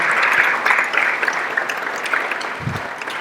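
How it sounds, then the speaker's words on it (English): Brief applause from an audience at a health learning lecture on consciousness, a dense burst of clapping that softens slightly over about three seconds, with a low thump near the end. "could we give them a round of applause?"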